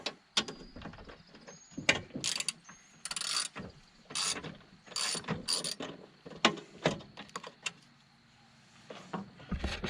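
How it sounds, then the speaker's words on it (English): A ratchet wrench loosening a 3/8 nut on a Husqvarna LC22 all-wheel-drive mower, quick bursts of clicking pawl strokes separated by short pauses, close and crisp. "Loosen this 3/8 nut right here."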